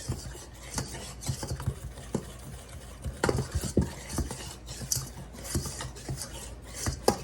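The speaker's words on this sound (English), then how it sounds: "Let's take our pastry cutter and kind of mix that up together a little bit." Pastry cutter working through dry shortbread ingredients in a bowl, a string of irregular scraping, clinking taps against the bowl, close and moderately loud with no voices.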